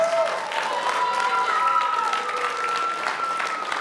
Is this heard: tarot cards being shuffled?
no